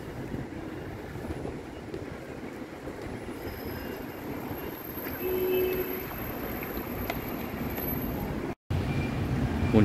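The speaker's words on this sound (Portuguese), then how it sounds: "Esta é a estação de trem de Taipei." A train rolls through Taipei train station, a steady broad rumble of wheels on rail with faint high squeal, continuous and fairly close throughout.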